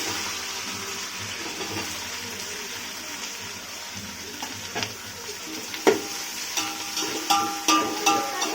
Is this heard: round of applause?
no